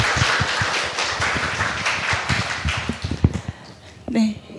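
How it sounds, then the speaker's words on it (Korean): Audience applause for two poets after a reading at a book concert, a dense patter of clapping from a seated crowd that thins out near the end. "귀한 낭독해주신 두 분 시인께 다시 한번 박수 부탁드릴게요"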